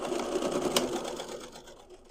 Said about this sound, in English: let's sew these side seams at a 1/4 of an inch